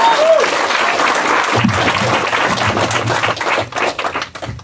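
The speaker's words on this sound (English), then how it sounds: "Can we have a round of applause for him?" An audience at a stand-up comedy show applauds a child volunteer, loud, dense clapping from many people close by with a faint tone at the start, gradually thinning toward the end.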